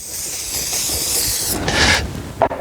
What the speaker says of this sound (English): Just spray a little bit on this bead.